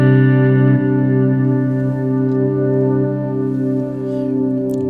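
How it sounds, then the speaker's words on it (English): An electric guitar rings out through a darkened, modulated delay pedal in a Gilmour-style lead tone, sustained notes blooming into soft echoing repeats with chorus-like wobble, steady and fairly loud with no talking. "this thing sounds exactly the way I like a delay to sound"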